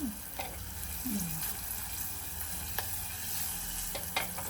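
Green chillies fry in oil with a steady, soft sizzle and crackle, faint and close, with a few light clinks from stirring and no talk.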